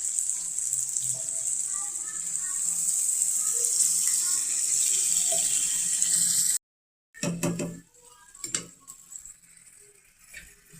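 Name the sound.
pouring water into cooking pot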